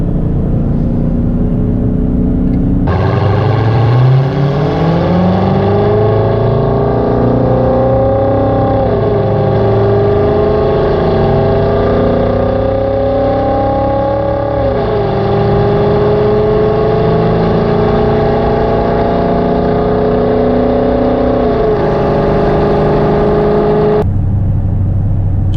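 Dodge Charger Hellcat with its supercharger whining loudly over a steady engine drone, pitch rising and falling through several long sweeps as the car accelerates, close and continuous before cutting off near the end.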